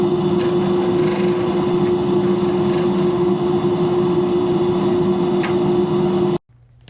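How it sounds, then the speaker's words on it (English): A pin gouge cuts a wooden pen blank spinning on a lathe, a steady loud whirring hum with a scraping rasp that runs continuously before stopping abruptly near the end. "So I'm using the pin gouge"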